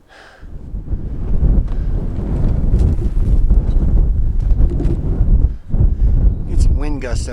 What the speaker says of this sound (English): Get some wind gusts up here.